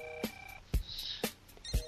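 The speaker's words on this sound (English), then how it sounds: "I'm going to hang up on you now because you're boring." A phone call ends with a hang-up click, followed by sharp, regularly spaced line tones and clicks about every half second, close on the line.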